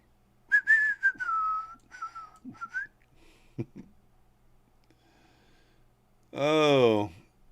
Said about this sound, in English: Instead of singing to you guys, I'll just whistle to you.